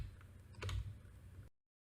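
Keyboard arrow keys being pressed at a computer, a short cluster of soft clicks and taps with a brief louder burst midway, then abrupt silence.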